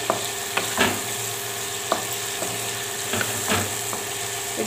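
A wild melon (kachri) and potato sabzi with mint is stirred in a pan, giving a steady low sizzle broken by several distinct scraping strokes of a spoon against the pan.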